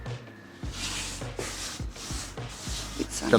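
Beeswax being rubbed onto a surface: repeated scraping rubbing strokes in an uneven rhythm, close and fairly quiet, with a few soft knocks between passes.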